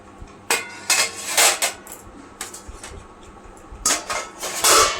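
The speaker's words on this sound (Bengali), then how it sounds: "আমি এখন ভাতের থালা ছাড়বো" Rice being served onto a plate in a home kitchen, with bursts of clattering metal as a utensil scrapes and knocks against the plate and pots, irregular and close, separated by brief quiet gaps.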